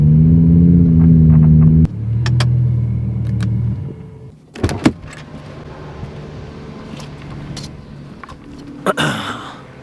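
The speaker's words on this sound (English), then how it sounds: "we're gonna hop in the R8, we're gonna drive over to their house" An Audi R8 driving on the road, a steady engine rumble and hum with tonal bands that shift as it moves, plus a few brief knocks and clunks along the way.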